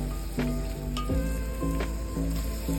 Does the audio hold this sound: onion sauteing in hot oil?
yes